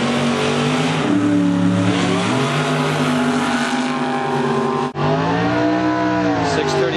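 Loud Chevy Super Gas drag race car engines roar and rev up at an NHRA event at Portland International Raceway, pitch climbing through gear changes, with a brief cut in the noise before the howl resumes.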